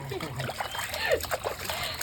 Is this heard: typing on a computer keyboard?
no